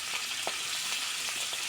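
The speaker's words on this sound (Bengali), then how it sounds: "এটা মাছ ভাজাটা অনেক রিস্ক। পাঙ্গাস মাছ খুব ফোটে।" Pieces of pangas fish frying in hot oil in a pan, a steady close hiss with scattered small pops and crackles, no talking.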